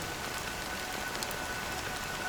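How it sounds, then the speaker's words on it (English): Steady rain pours throughout a scene in the Honkai: Star Rail video game, a dense even hiss with occasional louder patter, heard alone with no voices. "But it's still raining."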